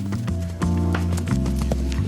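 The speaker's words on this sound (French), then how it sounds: "C'est au tour de cet autre poulain de montrer ses capacités de sauteur." Hooves clop in an uneven rhythm as a young Cantal horse trots and takes off for a jump, with a low hum and some scuffling in the background.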